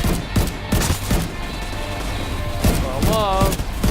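A heavy-kicking single-fire gun in The Division 2 video game lets off loud, close shots with a hard punch, one after another, while a voice talks over and between them.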